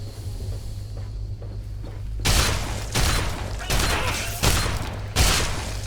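Combat shotgun blasts from the video game Fallout 3 fire four or five times as loud, booming shots spaced about a second apart, each after a quieter low hum.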